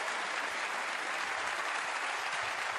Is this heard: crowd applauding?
yes